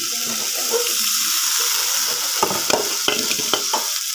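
Okra frying in a pan with salt and spices while being stirred, a steady loud sizzle under scraping, clattering strokes of a spatula that grow busier toward the end.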